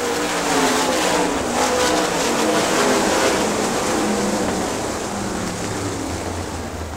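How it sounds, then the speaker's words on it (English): Race car in a 2000 Great Lakes Thunder event striking the turn 1 wall, heard as a sustained loud engine roar with broad roaring noise, steady throughout and fading slightly toward the end. "Jeff Shepard in the 4J, hitting the wall down there in turn 1"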